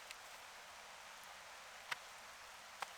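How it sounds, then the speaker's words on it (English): Steady light rain patters over a trout stream, a soft even hiss with a couple of sharp drops standing out, heard alone with no talking. "we are starting to get rained on"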